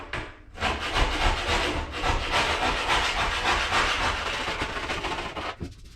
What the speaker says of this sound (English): let me grind out the mistakes of Matt